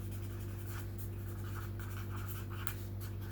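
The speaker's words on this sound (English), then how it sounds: "I'm going to write anomaly" A pen writes on paper, soft close scratchy strokes in short irregular bursts over a steady low electrical hum.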